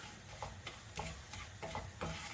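Oil bubbles and sizzles faintly in a pan while spices fry for a traditional puliyodharai or horsegram rice mix, with soft irregular stirring clicks over a low continuous crackle.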